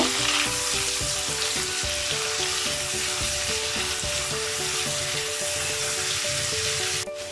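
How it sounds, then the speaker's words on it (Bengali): Garlic and ginger paste frying in a pan for vegetable pulao, a dense, steady sizzle with crackling from start to finish, close up and with no talking. "এখন এগুলোর সাথে আমি একটু ভেজে নেব।"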